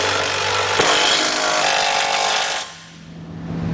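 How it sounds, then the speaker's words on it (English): Power tool whirring steadily as 19mm socket snugs down the bolts of a Curt trailer hitch receiver on a 2020 Chevrolet Equinox, loud and close, cutting off after about two and a half seconds to a faint low hum. "we'll come back with a 3/4 inch or 19mm socket and snug everything down."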